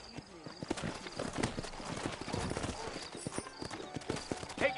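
Sturdy horses clip-clop through a frontier town in Red Dead Redemption, their hooves striking in a quick, uneven rhythm close by, with voices talking over the hoofbeats.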